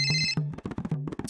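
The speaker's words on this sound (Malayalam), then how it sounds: "ഫോൺ അടിക്കുന്നു." A telephone rings with a bright electronic ringtone, a quick run of clear, repeated tonal pulses heard close and loud, with no voices over it.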